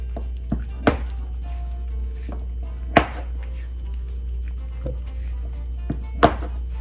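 Soap base being chopped into small pieces with a knife on a board for a chocolate-strawberry cupcake soap: a handful of sharp, irregularly spaced chops, close and crisp, over a low steady hum with no talking.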